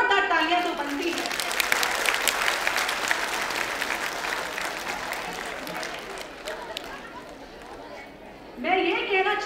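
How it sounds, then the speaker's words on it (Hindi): A crowd at a women's event at the Raj Bhavan in Dehradun claps loudly in honour of the women present. A voice trails off at the start and talk resumes near the end. "इस सभा में जितनी भी महिलाएं, उनके लिए एक बार जोरदार तालियां तो बनती है"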